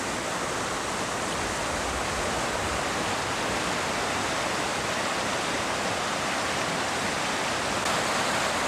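Creek water rushes past boulders in a clearcut forest, a loud, constant broadband roar throughout with no voices.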